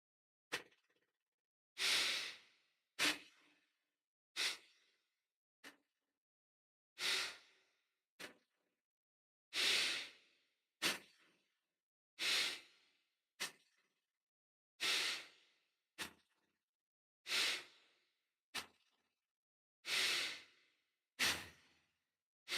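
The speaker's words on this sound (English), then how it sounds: "start with 30 rounds of bow breathing in through the nostrils" Bow breathing through the nostrils in pranayama practice, a close, rhythmic series of forceful nasal inhales and exhales, each a short breathy rush separated by brief silences, repeating steadily for many rounds.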